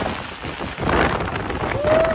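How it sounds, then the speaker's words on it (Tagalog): Heavy typhoon rain from Typhoon Crising in Manila pours in a steady, dense roar, loud and continuous with a low rumbling wash underneath. "Ito yung sinasabing bagyo talaga."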